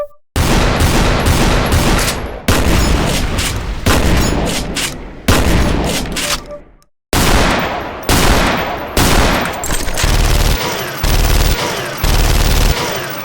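Rapid weapon gunfire from a slow, methodical tactical DOOM mod, loud, dense bursts of shots and booming reports, repeated in clusters with brief pauses between volleys.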